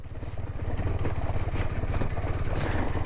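A KTM Duke 390 motorcycle ridden off-road at full power, its engine droning loud and close with a steady, rough mid-pitched roar and rattling clatter, no talking over it.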